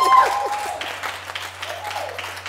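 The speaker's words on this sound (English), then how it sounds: "Clap for her." Church congregation breaks into applause for a woman, a brisk scattered clapping that starts amid voices and a held organ tone, then thins under continued chatter.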